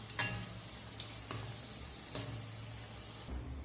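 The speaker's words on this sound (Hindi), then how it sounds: "इन्हें हम गोल्डन ब्राउन कलर आने तक डीप फ्राई करेंगे और इन्हें इस तरीके से हम चलाते रहेंगे" Shakarpara dough pieces deep-fry in hot oil with a soft, steady sizzle, broken by a few sharp scraping ticks as a spoon stirs them.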